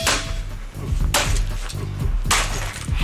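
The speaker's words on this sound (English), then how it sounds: "Henry's favourite thing in the world is being smashed in front of his eyes" A sledgehammer smashes an object with glass breaking, three loud crashing impacts with shattering debris spread over a few seconds, close and harsh, with no speech.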